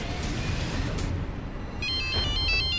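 A telephone rings unanswered, its repeated electronic ringtone pulses arriving in the second half over a steady background hum, with no one speaking.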